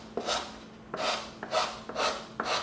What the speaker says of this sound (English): now we're gonna come in with our 80 grit sandpaper